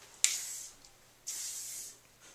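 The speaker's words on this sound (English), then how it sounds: "watching people apply their spray-on sunscreen," Spray-on sunscreen from an aerosol can, sprayed in two separate hissing bursts of about a second each, close and fairly loud with a quieter tail at the end.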